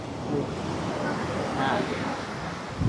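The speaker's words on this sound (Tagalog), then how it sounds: "Ayan yung beach. Ayan sila naliligo. Lalaki na alon." Large surf breaks on a beach where people are swimming. The waves give a steady broadband wash mixed with wind buffeting the microphone, and a person talks over it.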